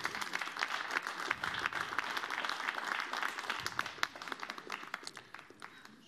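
Audience applause at a women's billiards team tournament, a steady patter of many hands clapping, moderately distant, thinning out toward the end.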